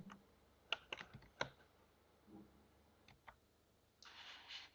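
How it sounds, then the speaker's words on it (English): Soft keystrokes tap on a computer keyboard in a few scattered clicks, then a short rustle. Quiet and close, with no speech. "I'll type login."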